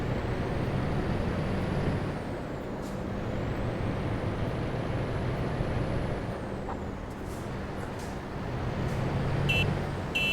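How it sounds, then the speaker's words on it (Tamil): In Euro Truck Simulator 2, a Volvo truck's air brakes release a loud, broad hiss over a steady engine rumble, with a high whine rising and falling and a few brief clicks. "அதான் அந்த ஏர் வர சவுண்டு கேட்குது பார்த்தீங்களா, அதான் அது."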